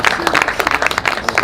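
A congregation applauds at a church wedding ceremony, with a dense burst of clapping lasting a second and a half, mixed with some voices.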